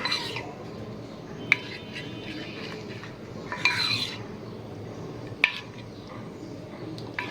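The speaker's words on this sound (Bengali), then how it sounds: "এখন এটা আমি একটু মিক্স করে নেব" Yeast-mixed dough being stirred in a bowl for an oil-free healthy snack: soft, steady scraping runs underneath, broken by a few sharp clinks of utensil against the bowl.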